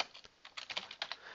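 Quick keystrokes on a computer keyboard while typing into a chat box, a short irregular burst of close, crisp clicks with brief pauses between them.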